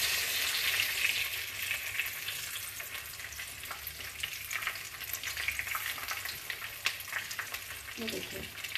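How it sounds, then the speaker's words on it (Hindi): Brinjal kebabs fry slowly in oil, giving a soft continuous sizzle with light crackling and occasional stirring, steady and fairly quiet from start to finish. "इनको अब हम धीरे धीरे फ्राई करेंगे।"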